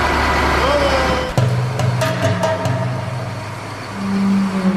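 A large front-loading garbage truck with front-mounted prongs, its engine idling in a steady, loud low drone with a faint whine and a few clanks, apparently under a voice.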